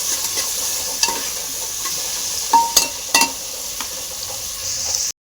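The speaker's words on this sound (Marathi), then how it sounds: "आता आपण तंबाटे टाकून घेऊ कोथंबीर पण टाकून घेऊ कोथंबीर पण चांगली एकत तळून घेऊ आता सगळं तळून घेऊ एक सारखं" Onion, tomato and coriander fry together in a pan for pea rice, a constant close sizzle broken by a few sharp scrapes and clinks of a spoon stirring against the pan, with no speech.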